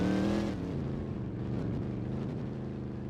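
A car engine in the Roblox driving game Southwest Florida revs up loudly, then settles into a steady, droning hum as the car keeps moving.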